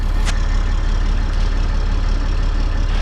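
An old tool truck's engine idles with a steady, heavy low rumble, loud and close, holding evenly throughout with no voices over it.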